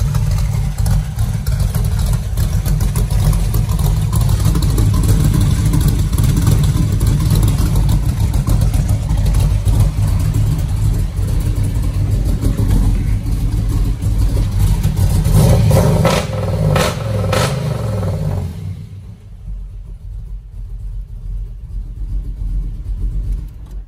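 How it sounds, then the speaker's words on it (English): Exhaust of an LS3 V8 in a 1969 Camaro SS pro touring car, a loud, deep, steady rumble heard up close from the rear, swelling with a rev near the end before dropping back to a lumpy idle. "Go ahead and jump to the back so you can hear the exhaust."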